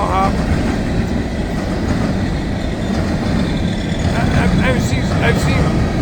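A freight unit train made up entirely of hopper cars rolls past close by, with steady loud rumbling and rhythmic clickety-clack of wheels on rail joints.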